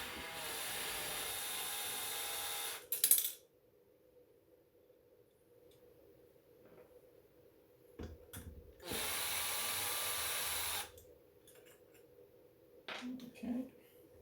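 A power drill backs small screws out of a headlight lens in several short whirring bursts, close by, separated by quiet stretches with faint handling noises and a little talk.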